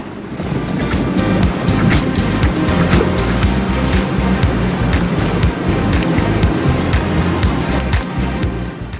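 A boat under way at sea off the Spanish coast, heading toward the Puerto Sherry anchorage: steady loud wash of waves against the hull and gusting wind buffeting the microphone, continuous throughout with no voices.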